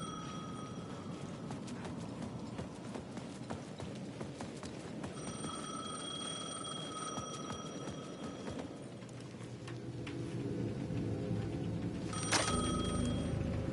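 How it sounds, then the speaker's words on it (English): A payphone rings at the edge of a plaza in Alan Wake 2, with repeated tonal bursts and a final loud ring over steady ambient game noise. "The payphone at the edge of the plaza was ringing again."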